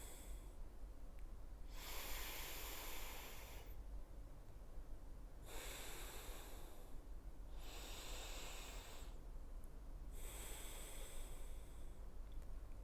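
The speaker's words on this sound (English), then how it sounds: "release the fingers and exhale through the left nostril" Slow alternate nostril breathing during a breathwork exercise, with long airy exhales and inhales in an even rhythm of roughly two-second breaths separated by short pauses, close and alone without talk.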